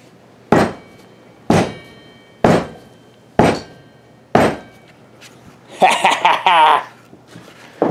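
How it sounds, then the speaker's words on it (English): A whacker packer plate compactor thumps five times at an even pace, heavy close impacts about a second apart, followed by a brief burst of someone talking before another thud. "World's most expensive whacker packer."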